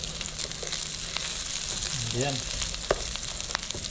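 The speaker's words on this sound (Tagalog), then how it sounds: "At atin na pong haluin." Onions stir-fried in a pan, a steady loud sizzle with light stirring scrapes, while a person speaks briefly over the cooking.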